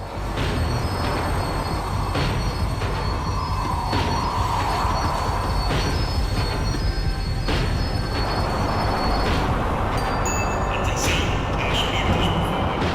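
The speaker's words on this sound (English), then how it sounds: "tram was slowing down, and I'd only just gotten on board." A tram in Max Payne 3 rumbles steadily along its rails, with a loud continuous rolling drone, repeated clunks and faint metallic squeals as it slows down.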